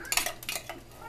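A metal spoon scrapes homemade pizza sauce out into a pan in a few short scraping strokes with light clinks, close up and moderately loud, with no talking.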